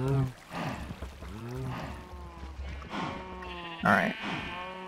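Sheep in the Minecraft video game bleating repeatedly in wavering, nasal cries, loud and close, with a person talking in between and over the calls.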